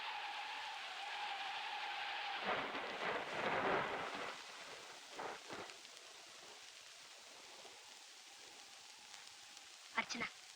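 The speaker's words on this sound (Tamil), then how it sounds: "வெளியே காத்து அதிகமா இருக்கு. மழையும் பெய்யுது." A stormy night in a dramatic Tamil film scene: wind and heavy rain roar steadily, with rolling thunder swelling in the middle and a sharp crack near the end, while voices are heard in places.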